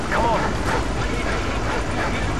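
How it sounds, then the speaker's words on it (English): A dog barks and yips in Call of Duty Modern Warfare Reflex as it chases the player, a few short, loud barks up close over busy game noise. "There's a dog coming after me."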